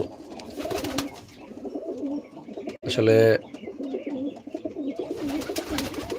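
Flying pigeons at a pigeon club coo in low, soft phrases throughout, with someone speaking briefly near the middle over the birds.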